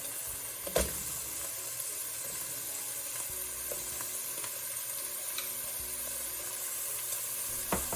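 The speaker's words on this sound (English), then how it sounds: "We'll just cook the onions for 1 minute." Onions sizzling in a pan for a Thai red curry, a steady quiet hiss with a single clack of a utensil near the start and occasional small stirring sounds.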